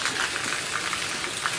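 Rain falls steadily outdoors as an even, soft, continuous hiss at moderate distance, with no voices.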